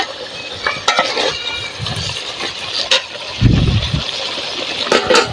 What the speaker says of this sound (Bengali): আমি গোশটা কষানোর জন্য অল্প করে একটু পানি দিয়ে দেবো গোশটা ভালোভাবে কষিয়ে নেওয়ার জন্য